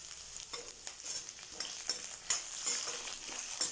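Curry leaves sizzle and crackle in a pan of hot oil while making mint chutney, a steady close frying hiss with light stirring scrapes throughout.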